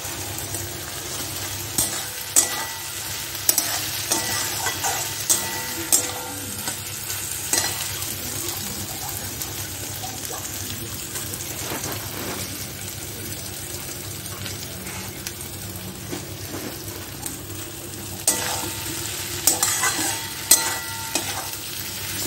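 A spoon keeps stirring fried potatoes through boiled rice in a pan over steady frying, with faint sizzling and soft scrapes and knocks now and then, close by and without voices.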